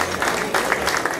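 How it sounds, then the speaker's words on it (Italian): An audience applauds at an award ceremony, a brief burst of steady clapping from a crowd at close range. "Un bel applauso, perché pensiamo che se lo merita."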